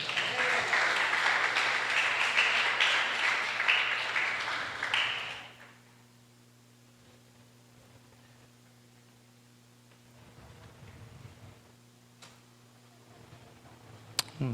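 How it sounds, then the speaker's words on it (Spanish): A church congregation applauds, a loud broad wash of clapping for about five seconds that cuts off, followed by quieter room sound with faint murmurs and a steady low hum. "Den un aplauso al Señor"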